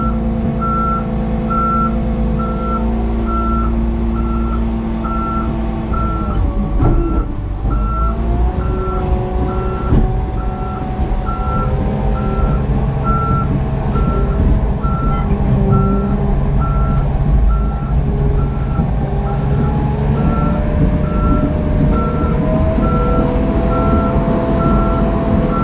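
Loud, evenly spaced reversing beeps sound continuously over the heavy rumble of a machine backing straight off a trailer, with the diesel drone of a John Deere 850J dozer running underneath.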